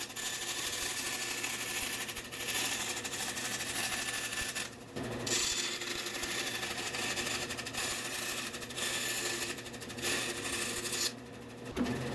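A wobbling bandsaw cuts knife handle material close to a scribed line, roaring steadily and loudly with a few brief dips as the feed pauses.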